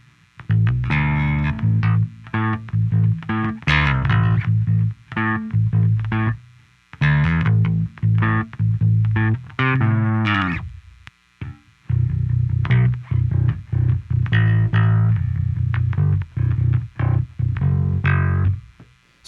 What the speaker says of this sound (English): now we're on to the super bass, and this is what the super bass sounds like